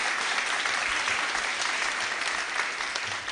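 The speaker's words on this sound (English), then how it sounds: "Melissa Tukulu. Okay, we can actually give her a round of applause there" Steady, dense applause from an audience at a girls' high school awards ceremony, sustained and even throughout, with no voices on top.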